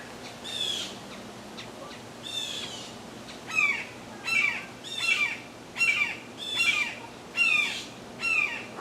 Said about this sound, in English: There's a hawk somewhere up in that tree. All the other birds are yelling and I hear it squawking